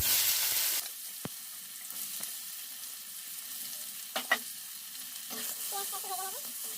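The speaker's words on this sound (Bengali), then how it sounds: "তো এই তেলের মধ্যে দিয়ে দেবো গরম মশলা ফোড়ন, আর দেবো পেঁয়াজ কুচি" Chopped onion and whole garam masala spices dropped into hot oil left from frying potatoes, a brief loud hiss at first settling into a quiet sizzle with a few sharp utensil clinks.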